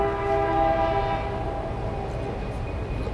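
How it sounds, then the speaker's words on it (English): A passing train with a sustained horn blast at the start, then a steady low rumble of rail cars rolling by at close range, loud and without talk. "Let the train go by."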